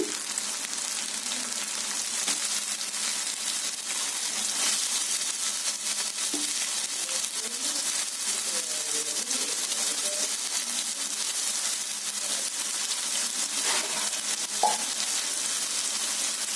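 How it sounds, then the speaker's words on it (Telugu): Mushrooms fry in a pan for a simple mushroom curry, giving a steady, even sizzle with faint scraping from stirring underneath. The sound continues without pause throughout. "కలుపుకొని ఇందులోనే మష్రూమ్స్ వేసుకున్నాము"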